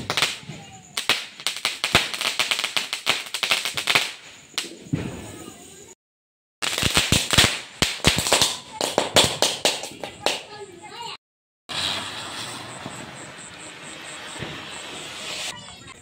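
Rapid bursts of Diwali firecrackers crackle in dense volleys, with short pauses between, followed by a steady hissing, sparkling fizz near the end.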